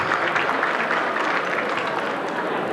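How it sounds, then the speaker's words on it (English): Audience at the 1999 Sitara e Daccan award ceremony claps steadily, a dense, even wash of applause from a sizeable crowd, sustained without pause for nearly three seconds. "Please give a big clap."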